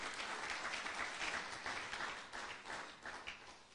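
A church congregation claps and cheers for the praise band, a dense, fairly distant wash of applause that swells and fades slightly over a few seconds.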